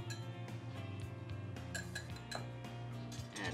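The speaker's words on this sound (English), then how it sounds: "I'm gonna add 1 egg. Whisk that up a little bit." A single egg being whisked in a bowl, with rapid, steady clinking of the utensil against the dish. The clinks sound close and continue without any talking.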